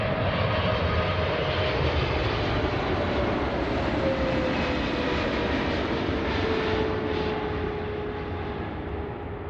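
Boeing 777-300ER jet arriving at Seattle from Manila, a loud continuous engine roar with a slowly falling whine, steady and close throughout before easing slightly at the end.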